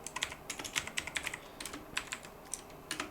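Rapid typing on a computer keyboard while coding a playlist shuffle feature, with irregular clusters of crisp, close key clicks and taps and no voice.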